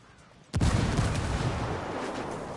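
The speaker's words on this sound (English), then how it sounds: "I'm gonna throw another grenade." A grenade blast in the video game Ghost Recon Wildlands: one sudden loud boom after a short quiet stretch, then a long roaring rumble that slowly fades across the rest of the moment.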